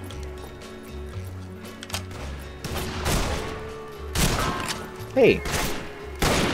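Gunfire and thuds from the Western multiplayer shooter Fistful of Frags, several sharp loud bursts spread across the stretch, mixed with game noise and a player shouting briefly.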